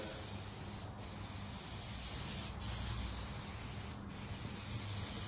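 A steady hiss of spray paint on a Ferrari 308 GTS roof runs continuously, broken by three brief pauses between passes, close and even.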